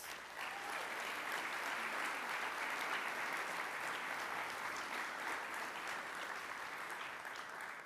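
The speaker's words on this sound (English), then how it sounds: "Let's give them a round of applause." A steady, dense round of audience applause at Santa Ana's State of the City event, even and full throughout, with no voices breaking through.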